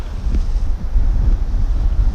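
Heavy wind buffets the microphone in a constant low, rumbling roar on an exposed summit, with no speech.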